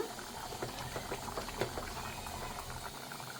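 Gongura dal (lentils) boils softly in a covered pot, a steady close bubbling and popping patter that runs throughout at low volume.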